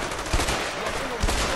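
Gunfire in the co-op video game A Way Out: two heavy low thumping shots, one near the start and one near the end, over a constant dense game ambience.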